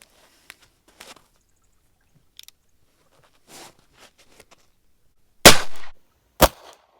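An 1849 Colt .31 caliber cap-and-ball revolver firing outdoors: two loud, sharp reports near the end, with faint clicks and small pops before them, so fewer distinct shots than five.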